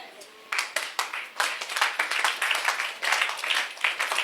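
Scattered clapping from an audience at a sermon, a few hands striking in loose, irregular bursts, close and moderately loud, not a full ovation.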